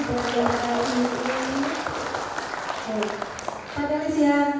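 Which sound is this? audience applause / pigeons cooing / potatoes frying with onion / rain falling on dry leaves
audience applause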